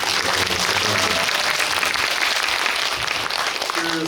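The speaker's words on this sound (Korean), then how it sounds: "우리 감독님께 박수 한번 부탁드리겠습니다." Audience applause for a film director at a guest-visit screening in a cinema, dense steady clapping from a full crowd sustained throughout, with a few voices faintly under it near the end.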